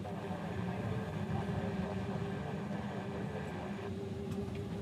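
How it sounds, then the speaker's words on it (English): A Boeing 787 Dreamliner airliner approaches at night near Honolulu airport as a steady, broad jet rumble, distant and even in level, droning on without a break. "The Dreamliner's coming up behind you"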